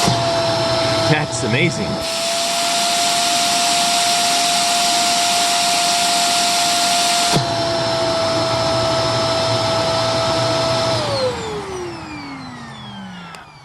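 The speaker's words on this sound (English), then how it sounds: "I was not expecting the massive increase in suction with the brush roll off." A Shark NV650W vacuum cleaner runs loudly with its brush roll off, a steady high whine that cuts out briefly and then spins down near the end, with a short remark spoken over it.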